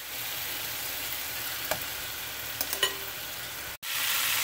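Beef or steak pieces frying in a pan give a loud, steady sizzle with a few faint clicks. The hiss cuts out briefly near the end, then resumes.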